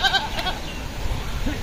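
Castrated goats bleat at a crowded Eid livestock market, their short cries rising over a noisy outdoor crowd, with voices murmuring in the background.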